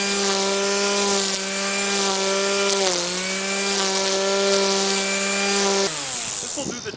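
A Black & Decker electric lawn trimmer cutting grass drones with a steady, loud motor whine for about six seconds, dips briefly near the third second, then cuts off into rattling and scraping at the end, with no talking.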